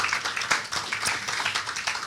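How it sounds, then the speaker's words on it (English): An audience at a FrankTalks community event claps in steady, dense applause, many hands together at a close, even level throughout with no talking. "Let's give them a round of applause"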